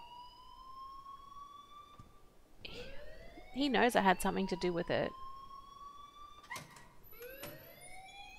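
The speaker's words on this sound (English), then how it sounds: "please turn off that alarm" A wailing alarm in Life Is Strange rings with sweeping, rising tones, swelling to a loud, warbling stretch in the middle before fading back, while a voice speaks over it.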